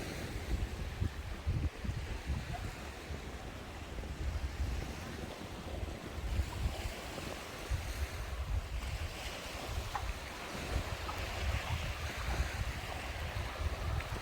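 Sea waves washing onto the coast at the Hua Hin resort town in Thailand, a soft, continuous surf wash mixed with wind buffeting the microphone, fairly quiet and steady throughout.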